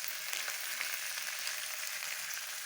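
Oil sizzles and crackles steadily in a cast khanom krok pan being seasoned over the stove, a dense close frying hiss with small pops throughout, no voices.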